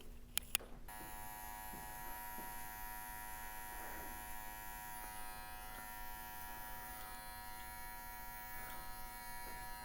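Electric hair clipper buzzing steadily while cutting a medium bald fade, a constant close hum with faint shifts as the blade moves. Two sharp clicks come at the start.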